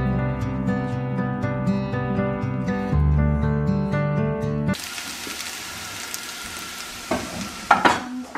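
Cabbage sizzles and fries in a pan for a bubble and squeak, a steady close hiss with stirring scrapes, following a stretch of music; no one speaks over it.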